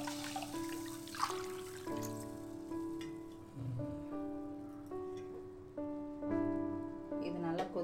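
Water is poured into a cooking pot for black urad dal rice, a soft, close trickle with a resonant ringing tone that shifts in steps as the pot fills, faint and unbroken throughout.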